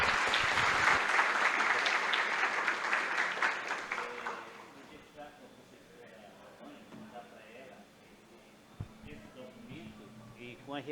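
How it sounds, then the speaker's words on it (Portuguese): An audience applauds a professor after a talk at a lecture event; loud, dense clapping for about four seconds that fades away, followed by quieter room noise and a person speaking. "uma salva de palmas ao professor Credinei"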